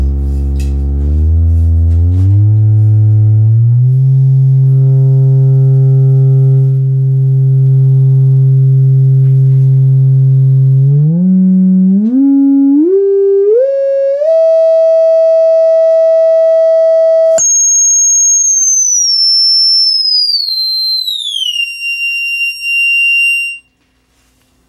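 A test tone fed through a TPA3116D2 class D amplifier module plays loud and steady, holding low, then stepping upward in pitch in stages before jumping to a high whine that slides down and cuts off, with no talking.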